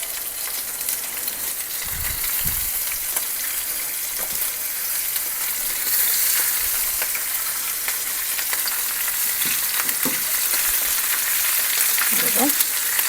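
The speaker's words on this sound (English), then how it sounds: "So we're just going to sear the short ribs." Short ribs sear in a hot pan with a loud, steady sizzle that runs without a break, broken by a few low bumps and scrapes as the meat is moved.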